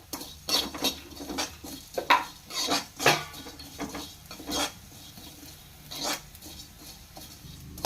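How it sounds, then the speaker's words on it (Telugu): Coriander seeds roast in a pan, stirred with a utensil so it clinks and scrapes in quick irregular strokes close up, over a faint dry sizzle, with no talk. "జస్ట్ ఇలా కొద్దిసేపు వేయించుకుంటే ఒక one minute one or two minutes వేయించుకుంటే ఇలా వైట్ కలర్ వచ్చిన తర్వాత"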